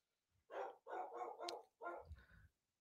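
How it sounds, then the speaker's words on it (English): A dog barks several times in a quick row, about five close, distinct barks followed by a couple of lower huffs, heard alone in a quiet room. "The dog agrees with me."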